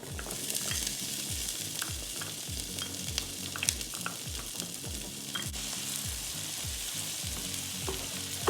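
Onion frying in a pan makes a constant crackling sizzle, with a steady, rhythmic run of low scraping strokes as it is stirred, close and fairly quiet, with no voices.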